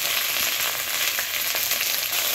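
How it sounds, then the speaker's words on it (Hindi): Okra (bhindi) fries in mustard oil with a dense, loud, unbroken sizzle that holds steady throughout. "अब यहाँ पर हमारा जो भिंडी है ना, उसको हम डाल देंगे और थोड़ी देर हम इसको लाल होने तक भूनेंगे"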